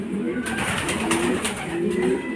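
Racing pigeons arrive at a home loft during a club fun race, cooing and fluttering nearby in a steady, busy stream of bird sounds with no talking.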